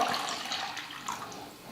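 Strained water, the waste left over while making wheat-flour halwa in a home kitchen, is poured out, giving a continuous soft splashing trickle that gently tapers off, with no talk.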